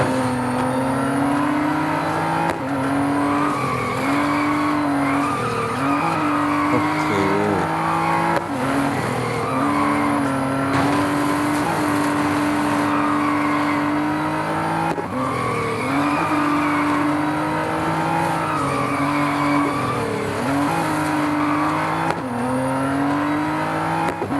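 A Nissan GT-R R35 race car in Real Racing 3, its engine droning and rising through gear changes continuously, with tire squeal and revving as it drives hard, loud and close.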